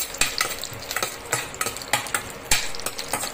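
Chopped onions sizzle in hot oil in a pan after the spices are tempered, with rhythmic scraping stirs from a utensil striking at short, regular intervals, close and clear, with no speech.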